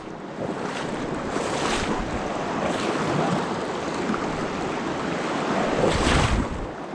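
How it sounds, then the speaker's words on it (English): Steady, blustery wind roars across the microphone on a river while fishing, buffeting continuously with stronger gusts swelling near the start and again toward the end; no voices. "Oh, that is windy."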